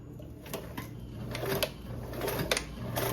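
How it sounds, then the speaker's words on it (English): A sewing machine stitches fold-over elastic onto a toiletry bag with a quarter-inch seam allowance, giving a quiet, steady motor hum dotted with light ticking clicks throughout. "I'm going to sew this on with a 1/4 seam allowance"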